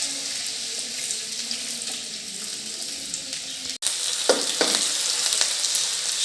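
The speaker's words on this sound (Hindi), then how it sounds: "अब मैं इनको फ्राई कर लूँगी।" Chopped potato and bell pepper pieces frying in a pan, a steady hiss of hot oil that cuts out briefly, then resumes with a couple of stirring knocks.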